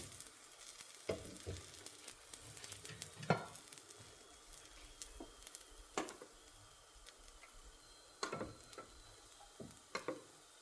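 Aloo paratha fries in a pan with a steady, close sizzle, broken by scattered ticks and scrapes as it is turned, with no voices over it.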